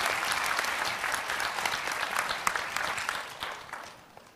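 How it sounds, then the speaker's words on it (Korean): A crowd at a public town-hall talk in Chungju, South Korea, bursts into sustained applause for a visiting government minister. The dense clapping stays loud and even for several seconds before tapering off toward the end. "박수 좀 보내주세요"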